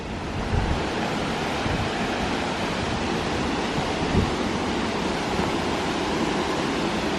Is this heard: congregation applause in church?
no